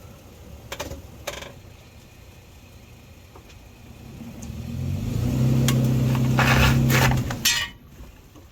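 A second-generation Toyota Tacoma sits on blacktop with one wheel jacked up. After a few faint clinks, the engine revs up to a strong sustained roar, then drops back to idle.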